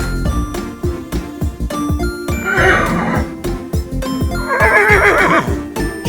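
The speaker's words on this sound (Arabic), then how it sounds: "horse حصان." A horse whinnies twice in long shrill neighs, loud and close, over steady clip-clop of hooves and faint jingling tack.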